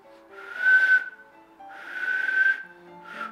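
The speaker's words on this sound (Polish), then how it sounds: "czasami mi się udaje już uzyskać dźwięk podobny do gwizdania, ale nie jest to powtarzalne" Close-range attempts at a finger whistle: two breathy, airy whistled tones of about a second each with a short third starting, noisy air audible around the pitch and no talking.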